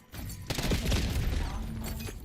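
A concussion grenade detonates during a Black Ops 6 match on Nuketown, a loud, dense blast with rumbling, crackling gunfire mixed in that fills the whole moment without pause.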